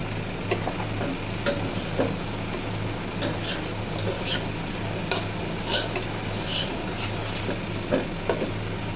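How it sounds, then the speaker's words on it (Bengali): Washed, drained rice for beef tehari fries in mustard oil in a pot, with a steady close sizzle and repeated sharp scrapes and clacks of a spoon stirring against the metal throughout. "চালগুলো যত ভালোভাবে ভাজা হবে"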